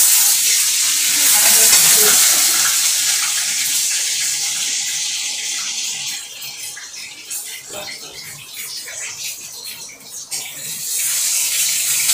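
An egg fries in hot oil, giving a loud, dense hiss that stays close and steady, then eases slightly and crackles more unevenly toward the end, with no one talking.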